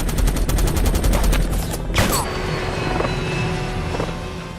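Heavy gunfire from a big rifle aimed at an enemy helicopter in a war film, with rapid loud bursts at the start, then a sharp blast and a sustained roar of rotor and battle noise.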